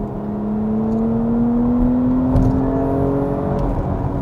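The engine of a facelifted Porsche Cayenne V6 3.0 SUV revs up hard with its variable exhaust open, its rising whine climbing steadily in pitch as it accelerates, loud and close, with no voices.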